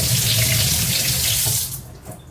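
Tap water runs steadily from a kitchen faucet as apples are rinsed at the sink for a fall dessert filling, a continuous close splashing that tapers off near the end.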